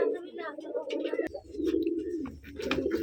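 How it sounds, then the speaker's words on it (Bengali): Biscuit-coloured pigeons with feathered feet, kept in an enclosed room, coo in low, throaty, rolling phrases close by, repeating with brief pauses. "এই যে আরেক জোড়া বিস্কিট কালার কবুতর"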